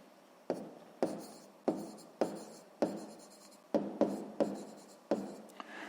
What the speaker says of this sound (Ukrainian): У дужках записуємо чого? Гривні.